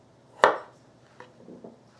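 A kitchen knife cutting boiled-bound potatoes into small sections for mashed potatoes, one sharp chop on the board followed by a few softer, quieter cuts, close by with no talk.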